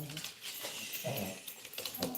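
A dog whimpers in short, thin whines over a steady indoor background, fairly close and moderately quiet, with no clear talk.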